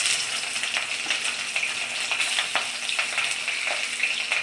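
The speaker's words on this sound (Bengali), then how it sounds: "একটা একটা করে মাছ দেবো। এই বেসনটা দিলে ফুটবে না, এরকম দিতে দিতে কাছে থাকা যায় না, মাছের খুব ফোটে" Fish pieces frying one by one in hot oil for a Bengali curry make a loud, close, continuous sizzle studded with sharp crackling spatters throughout.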